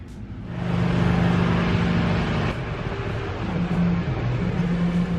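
A Mercedes S600 V12 sedan, just repaired after an engine misfire, drives off with a rising broadband road and engine rumble that settles into a steady cabin drone, with no talk.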